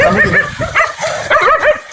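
Several stray dogs barking on a village street, repeated close, loud barks and yelps in uneven bursts with no talk.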